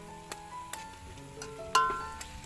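Tomatoes, chili powder and onion frying in a pan while being stirred, a soft sizzle under sharp scraping and tapping clicks of the utensil against the pan, with faint background sounds.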